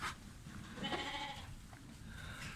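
Zwartbles sheep bleat during evening feeding on a farm, several faint overlapping bleats at a moderate distance with no talk.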